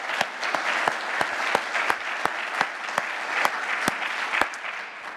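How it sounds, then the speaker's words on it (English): A lecture audience gives a sustained round of applause, a close, steady patter of many hands with a few sharp individual claps standing out, with no talking. "So I just want to give a round of applause to Mary Miller."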